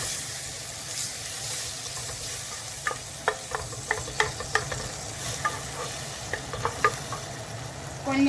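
Butter melting and sizzling in a pan for béchamel sauce, a steady low frying hiss punctuated by clinks and scrapes of stirring, ending in a brief louder clatter.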